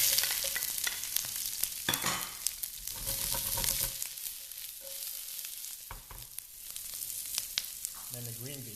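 Garlic, ginger and onions go into smoking-hot oil in a pan and sizzle loudly, with scraping stirs and clatter from a utensil throughout.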